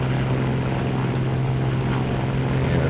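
A P-40M fighter's piston engine at full power during a touch and go in the IL-2 flight game: a steady, loud propeller drone with a strong low hum, unbroken and even for the whole stretch.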